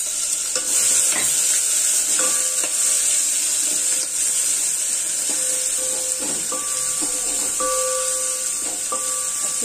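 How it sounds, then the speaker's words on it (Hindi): A coarse paste of garlic, ginger and green chili sizzles in hot oil with dried curry leaves, a steady bright hiss under repeated stirring scrapes and light knocks of a spoon against the pan, close up and without talk. "अच्छे से हम भूनेंगे लहसुन अदरक और हरी मिर्च को"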